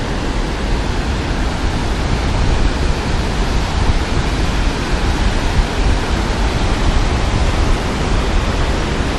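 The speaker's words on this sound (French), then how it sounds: "Voilà la cascade." A large waterfall in Yosemite roars close by, a dense, steady broadband rush of falling water with spray, loud and unbroken throughout with no voices.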